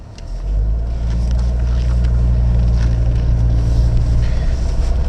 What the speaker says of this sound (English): a very composed ride over this field. You hear the suspension working, but it's nice and smooth.